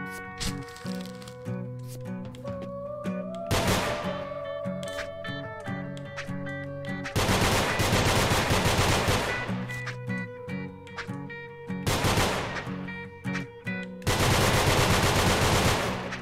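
Gunfire rattles in the video game Nongunz, with bursts of rapid shots over a droning, tonal game soundtrack, the louder volleys alternating with quieter stretches of music.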